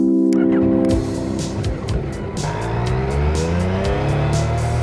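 A Yamaha XSR 900 motorcycle engine drones up through the revs while being ridden. The loud, close, rising harmonic tones sit under wind rush.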